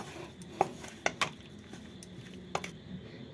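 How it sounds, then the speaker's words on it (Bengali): A spoon stirs tomato sauce with Kashmiri chili in a pot, giving a few sharp metallic clinks and soft scrapes against the pot over a quiet background, with no talking. "না এবার আমি ভালো করে এটাকে আমি মিশিয়ে নেব"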